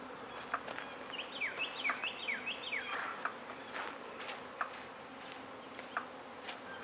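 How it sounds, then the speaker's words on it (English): Honeybees buzz faintly around spring flowers in a steady outdoor hum, while a bird sings a run of bright chirping notes overhead. "I'll focus on those bees and see what's going on there."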